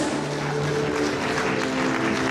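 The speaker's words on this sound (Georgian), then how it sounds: "ხუხარი აპლოდისმენტები ჩვენს ხუთივე ჟიურის წევრს." An audience at a children's Georgian song contest-festival applauds the jury members with steady, dense clapping that fills the whole stretch, loud and continuous.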